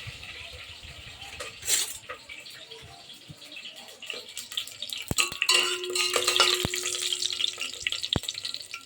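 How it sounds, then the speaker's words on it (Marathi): Cloves, black pepper, cinnamon pieces and cardamom pods sautéing in a pan, a soft sizzle under clinks of a spoon against the metal and scraping stirs, with sharp taps toward the end. "ते आपण छान परतवून घेऊया."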